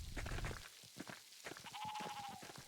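Sheep bleating in the video game Pentiment: several short, wavering bleats over soft background game sound, with one longer sustained bleat near the end. The sound is fairly faint.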